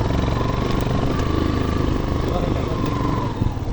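A motorcycle engine drones steadily on a mountain road up to Lekhdada from Hubas village, close and loud for the whole stretch, with someone talking over it.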